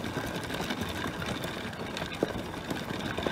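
A Wonderchef Turbo Dual Speed manual food processor chopping onions, giving a steady dense whirring and rattling churn at close range, with a few sharper knocks near the end.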